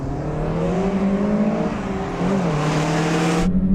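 Volkswagen GTI cars accelerate hard in a drag race, a loud close engine drone rising steadily in pitch, briefly dropping at a gear change, then climbing again before cutting off.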